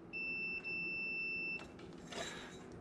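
A continuity tester gives a steady electronic beep lasting over a second, briefly interrupted once, while testing a carbon fiber headset spacer tube, followed by faint scraping and handling noises.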